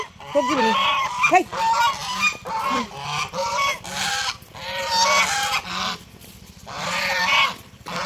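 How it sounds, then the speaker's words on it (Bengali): A flock of ducks or geese in a village setting keeps up a steady chorus of close, overlapping honks, pausing briefly between bursts of calling. "এগুলো কি হাঁস?"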